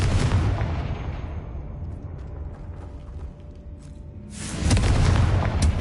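Two heavy Confringo spell explosions go off in the Hogwarts Legacy video game: a deep, loud boom that rumbles away over several seconds, then a second booming blast near the end.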